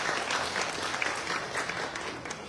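Audience clapping at a holiday aid handover event in a Balinese village, a short steady patter of applause at moderate level.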